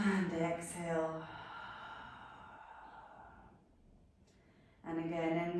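A long, deep breath slowly let out during a deep-stretch yoga session, a soft breathy rush lasting a few seconds, close and calm, with an instructor's voice speaking briefly before and after it.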